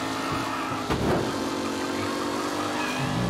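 Race cars battle for the lead in Mafia Definitive Edition, engines droning steadily close by with a brief burst of tire noise partway through, no voices.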